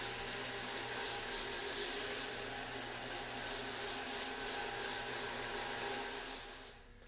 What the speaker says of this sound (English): We just have a low speed buffer. That's all we need. It'll sand it and smooth it